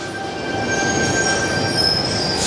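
A train rumbles steadily at a railway station in Chatswood, Sydney, with a high metallic squeal from the wheels, continuous and fairly loud, with no voices.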